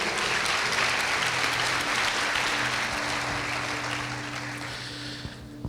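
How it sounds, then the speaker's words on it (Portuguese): A church congregation gives sustained, dense applause during a worship service, steady and loud, with a faint musical hum underneath. "Aplauda ao Senhor Jesus."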